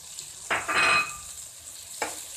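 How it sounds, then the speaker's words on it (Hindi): White lentils (daal mash) fry in a pan under a low sizzle, with two brief bursts of spoon stirring scraping across the pan. "थोड़ी सी और फ्राई हो जाए तो हम इसको डिश आउट कर देंगे"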